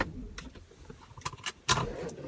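Car keys jangle and click at close range as a cheap used car is switched off, with several short metallic clinks and one sharper clatter over a faint low hum.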